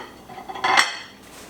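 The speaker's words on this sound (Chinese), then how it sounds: "我把它放在边上的盘子里" A carved roast chicken leg is set down on a plate with cutlery, giving one brief, bright clatter of china and metal that rings out and fades quickly.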